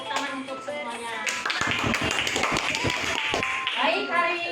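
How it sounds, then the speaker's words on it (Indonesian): Children in a classroom clap together in a short burst of rapid, fairly loud applause, with voices talking before and after. "Tepuk tangan untuk semuanya."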